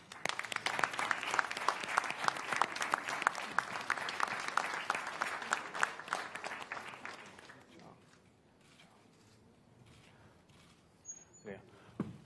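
Audience applause at the 2017 Team Suzuki ECSTAR launch, steady crowd clapping for roughly seven seconds that fades out, then quieter room sounds.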